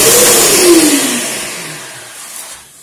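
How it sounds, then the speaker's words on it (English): A shop vac running for drywall dust cleanup in a bathroom, a loud whooshing motor roar whose pitch sags as it winds down, fading gradually over about three seconds before cutting off. "So I got my shop vac."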